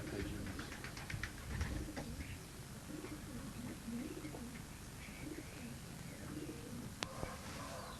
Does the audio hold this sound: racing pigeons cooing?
yes